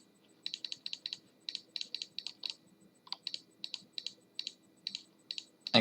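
A computer mouse clicks repeatedly in a terrain editor, producing quiet, crisp clicks in quick clusters separated by brief pauses, close to the microphone with no talking.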